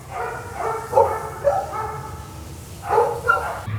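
Several dogs bark and yip in bursts at a desert dog shelter's kennels, a steady chorus of medium-loud barking with a few sharper peaks, voices faintly present underneath.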